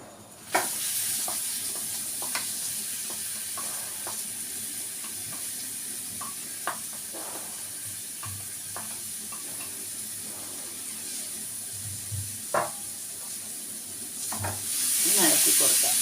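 Nutmeg pieces sautéing in a pan give a steady close sizzle, broken by sharp scraping clicks of a spatula stirring at irregular intervals throughout.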